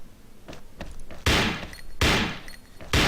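Paintball markers fire at a paintball tournament match, the Xshot Asian Pacific Cup 2014: several soft pops come first, then three sharp, loud cracking shots spaced under a second apart, each with a short echoing tail.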